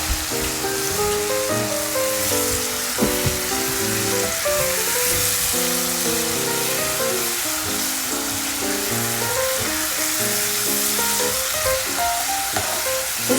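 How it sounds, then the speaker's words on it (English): Nigerian beans frying in palm oil with tomatoes and habanero pepper give off a dense, continuous sizzle with occasional stirring scrapes, heard close and loud under background music with no talking. "Keep stirring while you're frying for about 5 minutes."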